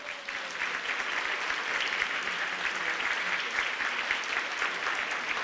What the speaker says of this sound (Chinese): 我们要感谢我们所有的管弦乐团，我们给他们热烈的掌声